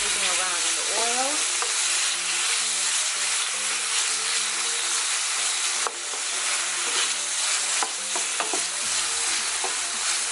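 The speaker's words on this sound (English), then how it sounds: "I'm gonna leave this stir frying for about 5 to 7 minutes" Steak stir-fries in hot oil with peppers, a loud continuous sizzle broken by scraping and clattering as a utensil stirs the pan, close and steady throughout.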